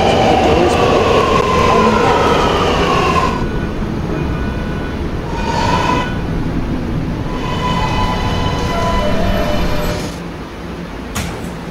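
An R211 subway train in a Roblox game rumbles loudly with screeching, whining tones of motors and brakes rising and falling over continuous rail noise.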